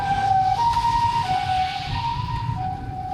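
An ambulance siren wails in rain, its two-tone pitch stepping up and down steadily and loudly over a constant low rumble of rainfall and road noise, with no voices.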